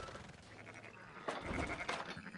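A sheep bleats in Red Dead Redemption 2, two short wavering calls over a faint rustling farmyard background.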